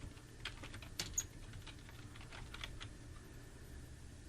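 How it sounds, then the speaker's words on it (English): Typing on a computer keyboard, soft scattered key clicks in a quick irregular run over a quiet background. "in this little search box up here, you want to type in mouse settings"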